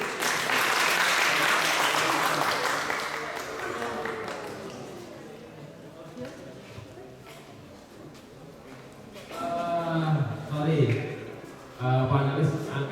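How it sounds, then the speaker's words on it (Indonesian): A seated audience at a Wonosobo Balamuda community event gives loud applause that gradually fades, and a voice speaks over the tail of it. "Tepuk tangan sekali lagi."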